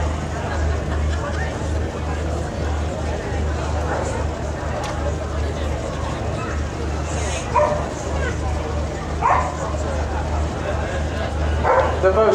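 At an indoor Best in Show dog show, a Beauceron gives scattered yips and whimpering barks over a constant crowd murmur, while a public-address voice talks through much of the scene.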